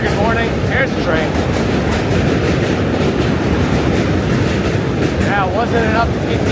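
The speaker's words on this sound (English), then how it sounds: "Here's the train." A New York City subway train roars past close by on a Manhattan street walk, a loud continuous rumble and clatter with metallic squeals of the wheels.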